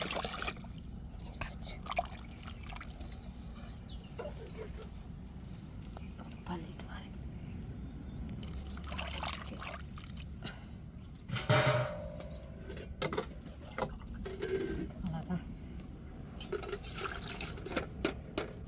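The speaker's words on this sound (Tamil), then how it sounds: "தேங்காய் தண்ணி சேர்த்துக்கிடுவோம்." Coconut water poured into a pot of stingray fish curry with tomato, chili, turmeric and curry masala powder gives a soft liquid trickle and splash. The sound is fairly quiet and sits under a person talking.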